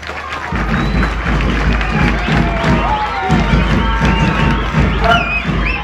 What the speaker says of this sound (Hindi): सबसे पहले उनके लिए तालियां।